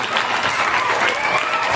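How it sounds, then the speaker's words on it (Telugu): Steady, dense clapping from an audience fills the whole moment, loud and continuous without a break. "ఒకసారి చప్పట్లు కొట్టండి"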